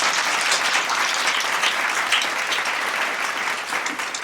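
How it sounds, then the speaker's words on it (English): Sustained applause from a conference audience for panelists and a moderator at a tech and telecom policy event, steady and dense throughout with no talking. "Can we give our panelists and moderator a round of applause, please?"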